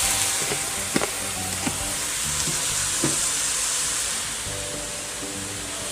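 Water hits stir-fried mixed mushrooms in a hot pan, a loud, even hiss and sizzle with a few soft clacks of a utensil early on, no talking.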